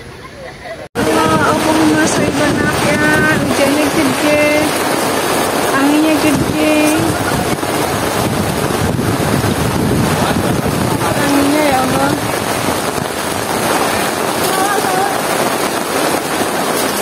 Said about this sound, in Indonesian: Kondisi di sisi cai hujan deras angin tuh sungainya kayak gitu tuh.